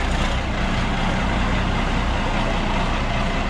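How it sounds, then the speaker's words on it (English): International Loadstar truck fitted with a new differential, its engine running loud and steady with a deep, rumbling low end that holds continuously throughout. "Oh, that truck sounds so good."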